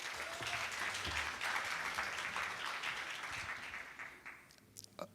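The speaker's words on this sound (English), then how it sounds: "One lower round of applause for them both." An audience at a talk on the future of AI breaks into steady, dense applause that fills the room for several seconds and then thins out into a few last claps.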